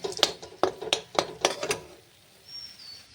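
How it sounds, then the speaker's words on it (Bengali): A spoon scrapes and clatters in a pan as a pointed gourd filling of chopped potato and gourd seeds is stirred and sautéed, about six quick, close scraping strokes in a row, then near quiet. "ভালো করে নেড়ে কষিয়ে নিলাম পুরগুলোকে"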